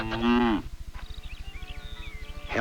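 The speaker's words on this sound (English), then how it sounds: "Suddenly, there was a loud mooing sound." A cow stuck in a mud hole lets out a single loud, drawn-out moo, followed by a steady low rhythmic thumping and a faint moo starting again at the end.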